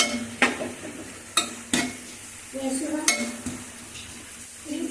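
Arbi (taro root) curry with onions is mixed in a pan: several distinct utensil knocks and scrapes against metal over a quiet background sizzle.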